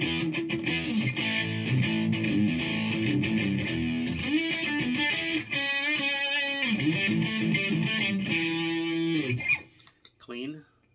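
Electric guitar played through a JS100 amplifier with its distortion effect engaged, loud sustained chords and riffs ringing continuously before cutting off near the end.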